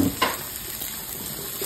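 Garlic sizzles in a frying pan for spaghetti, a soft steady crackle with a couple of stirring scrapes early on, quiet and close.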